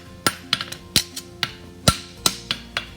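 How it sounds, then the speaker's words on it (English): Hammer blows on hot steel at an anvil while forging the heel caulk of a horseshoe with fullering strokes: a rapid series of sharp, ringing metallic strikes, loud and close, with brief pauses between. "I'm using the edge of my hammer and using kind of fullering blows."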